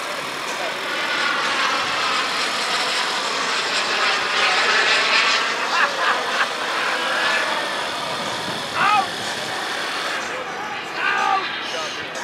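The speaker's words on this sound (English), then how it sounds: "the yellow and white Viper gear down, making the break. He's setting up for his landing." A yellow and white Viper jet flies at an air show with its gear down, breaking and setting up to land; a loud, sustained engine roar with a whining tone fills the whole stretch and swells slightly midway.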